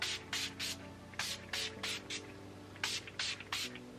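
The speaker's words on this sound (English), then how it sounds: "I'm gonna spray my face with the Urban Decay All Nighter Spray." Several short hissing bursts of an Urban Decay All Nighter setting spray misted onto a face, arriving in quick pairs and clusters with brief pauses between, close and fairly soft against a quiet room.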